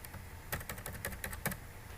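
Quick, light key presses on a computer keyboard, a short burst of about eight clicks in uneven rhythm, close but faint.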